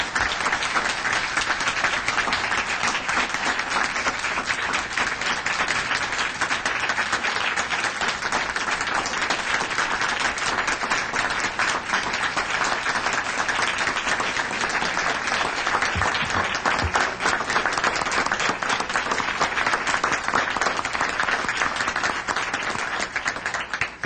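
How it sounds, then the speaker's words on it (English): An audience at a city council meeting claps steadily, loud and continuous applause lasting the full duration with a dense, even texture and no speech over it. "everyone, please give him a round of applause"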